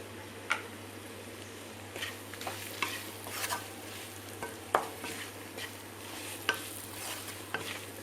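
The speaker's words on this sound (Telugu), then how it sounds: "2 నిమిషాలు మనం మీడియం ఫ్లేమ్లో పెట్టుకొని స్టవ్ని వేయించుకోవాలి" Mutton liver frying with spices in a pan over a medium flame, a soft continuous sizzle broken by scattered light ticks and scrapes as it is stirred, close and fairly quiet.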